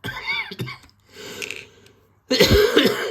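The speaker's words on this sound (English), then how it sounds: "We got a cough, as ever." A few close coughs and throat-clearing sounds, separated by brief pauses, ending with a louder, harsher cough.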